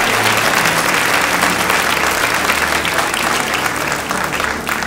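An audience applauds warmly to welcome visitors at a youth gathering, a dense, loud, steady clapping that fills the whole stretch without letting up.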